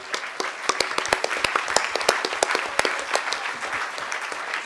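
An audience at a hacker conference closing ceremony claps in a moderate, scattered patter, with individual sharp claps standing out against a softer bed of applause.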